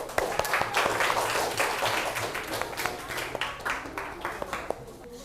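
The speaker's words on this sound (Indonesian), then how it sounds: "Tepuk tangan." Schoolchildren in a classroom clap together, a mix of sharp individual hand claps over a fuller patter of many hands that continues at a moderate level, with a few voices underneath.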